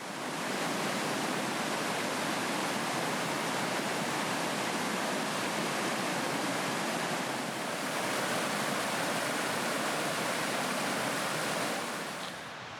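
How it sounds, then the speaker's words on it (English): A loud river rushing right beside a hammock campsite in wild African mountains, a steady, dense roar of water that fills the whole stretch without a break. "Right next to the river is nice, but it's way too loud."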